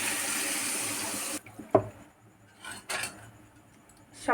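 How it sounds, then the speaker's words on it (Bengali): Water is poured into a pan of thin rupchanda fish curry with tomato and potato, a steady close splash lasting over a second, then a sharp clank and a couple of faint handling sounds. "এবার জলটা দিয়ে দেবো, পরিমাণ মতন জলটা দিয়ে দেবো।"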